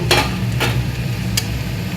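Fried hilsa and prawns are stirred into taro paste in a pan. Three quick scraping spoon strokes sound over a steady low sizzle.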